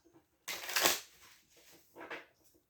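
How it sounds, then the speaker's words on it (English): Tarot cards are shuffled by hand in two short, soft riffling bursts, the first longer and the second briefer, close and quiet in an otherwise silent room. "let me shuffle this"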